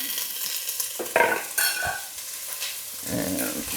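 Onions and garlic sizzle in a pot of oil as a chili gets started, a close hissing fry broken by a loud burst when they hit the pan and by scraping stirs, no voices.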